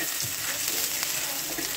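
Chopped onion and carrot sautéing in a pan, giving a continuous soft sizzle with light crackles and faint stirring scrapes, close by and without talk.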